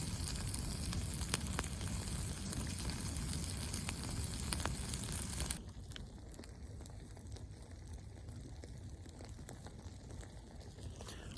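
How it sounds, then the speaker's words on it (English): Ghee crackling and sizzling in a pan over a campfire at night, a dense steady crackle that drops suddenly to a quieter, softer sizzle halfway through, with no talking. "you can hear like the ghee sort of crackling away"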